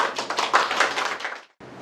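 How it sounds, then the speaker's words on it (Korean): A seminar audience claps for a speaker coming up, a short burst of brisk clapping that cuts off abruptly and then resumes faintly. "홍성철 대표님 나오실 때 박수 한번 부탁드리겠습니다."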